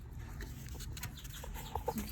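Hens cluck in short bursts close by, with a low steady rumble of background noise underneath.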